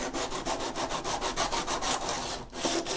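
A block wrapped in fine 220-grit sandpaper rubs back and forth over model railway track ballast in quick, even strokes, a soft close scratching with a brief pause near the end.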